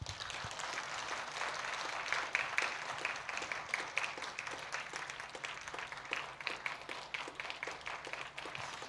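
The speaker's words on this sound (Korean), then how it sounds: "받으실 때 큰 박수 부탁드립니다." A Korean Presbyterian church congregation applauds during a Sunday service. Steady, faint clapping from many hands continues for about nine seconds, heard from a distance in a large room.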